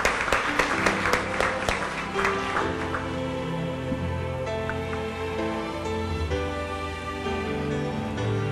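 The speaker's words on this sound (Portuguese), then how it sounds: "Vamos aplaudir pastor José Leite de Miranda." Audience applause at a solemn church anniversary session, crowd clapping with a few sharp claps at the start that settles into sustained applause over music-like tones, moderately loud.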